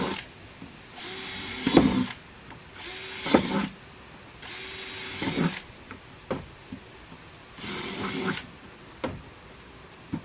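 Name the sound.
power drill boring holes in plastic bucket with 3/8 inch bit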